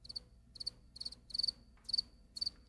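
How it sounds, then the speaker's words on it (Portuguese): A house cricket chirps in short, regular bursts, about six pulses of high, bright trilling separated by brief silences, fairly close and clear. "É o grilo doméstico,"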